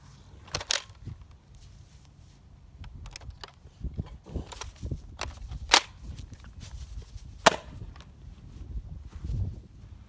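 A Nerf Rival Kronos blaster fitted with an upgraded spring fires a handful of sharp snapping shots at irregular intervals, separated by quieter handling and priming clicks close by.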